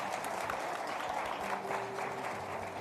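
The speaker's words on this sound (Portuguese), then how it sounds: "Mais uma vez, salva de palmas" A church congregation applauds during an evening service, a steady wash of many hands clapping at a moderate distance, continuous throughout with little talk.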